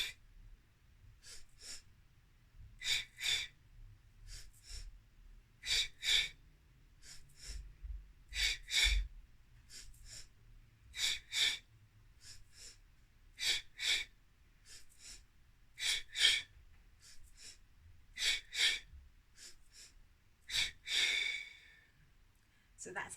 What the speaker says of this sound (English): So it's a double breath inwards,